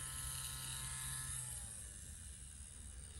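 Permanent makeup machine running at its lowest speed, giving a steady, faint electric buzz and hum that stays even throughout, close to the microphone with no talking.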